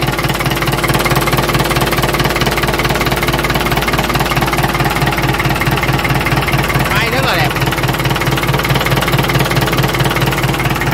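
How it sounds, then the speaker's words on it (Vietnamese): A Ford 6610 farm tractor engine idles steadily with a low, even knocking throb, loud and close throughout, while someone talks over it. "Máy nổ thi thầm luôn nha cả nhà."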